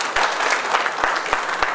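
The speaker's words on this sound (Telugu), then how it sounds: "వాళ్ళ కోసం ఒకసారి గట్టిగా క్లాప్స్ చేయండి" Audience applause at a business opportunity meeting for an e-bike company, with LIC agents in the crowd: a dense wash of clapping hands from many people, steady and fairly loud, with a few sharper claps standing out.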